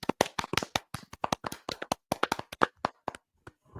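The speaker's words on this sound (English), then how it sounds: "let's give them a round of applause" A round of applause on a podcast: a small group or one or two people clapping in quick, uneven bursts, close and distinct, tapering off toward the end, with no talk.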